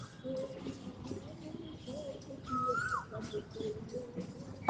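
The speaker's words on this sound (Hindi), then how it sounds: "अरे कोयल, तू तो बड़ी अच्छा बोल रही है।" An Asian koel calls outdoors, a rising whistled note standing out among other chirping birds and background chatter.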